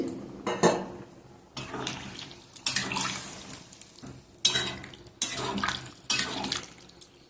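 Water is poured into a cooking pan of jackfruit curry in a home kitchen, heard as several separate splashing, clattering bursts with metallic pan knocks between them, fairly close and loud.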